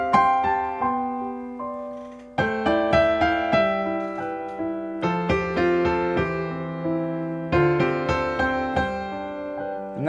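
Romantic piano chord progression voiced with the power harmony technique: full, rich chords struck one after another, each ringing out and sustaining before the next, played alone and close with no voices.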